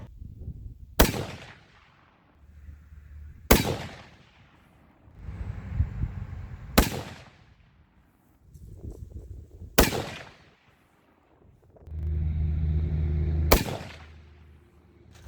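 Five sharp rifle shots fired with H1000 powder loads ring out at spaced intervals outdoors, each a loud crack with a decaying echo, and quieter low rumbles between them.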